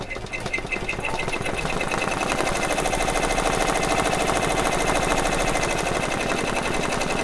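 An embroidery machine stitching a dense design onto Converse canvas shoes runs as a steady, fast mechanical chatter, close and constant throughout.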